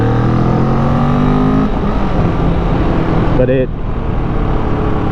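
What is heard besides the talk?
Vulcan 650 cruiser motorcycle engine while riding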